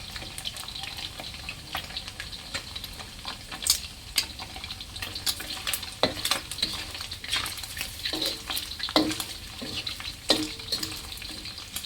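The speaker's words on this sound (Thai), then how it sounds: "ทอดให้มันเกลียมๆนิดนึงนะคะ" Sun-dried pork sizzles and crackles in hot oil in a hot pan, with occasional stirring scrapes and louder bursts of spattering near the end.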